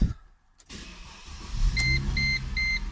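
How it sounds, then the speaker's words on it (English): A Mercedes SLK is started: a brief whir and starter catch lead into a steady idling engine, with three evenly spaced electronic chimes sounding over it. "if we actually go and start the vehicle up"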